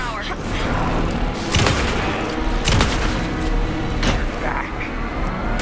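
Gunfire in the video game Alan Wake 2 comes as several loud, sharp bursts spread across a few seconds over a constant rumbling game background.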